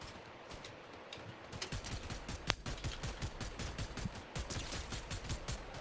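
Rapid gunfire in Fortnite as a player shoots at trees, a quick run of sharp, evenly spaced shots that starts after a short pause and keeps going steadily and loudly through to the end.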